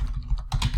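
Quick keystrokes on a computer keyboard, a short burst of several close, soft clicks in uneven rhythm, heard alone.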